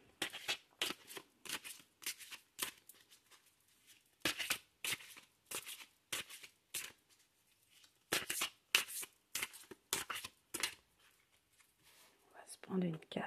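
Oracle cards being shuffled in bursts of quick riffling and flicking, close and crisp, separated by short pauses, with a soft voice speaking quietly in between.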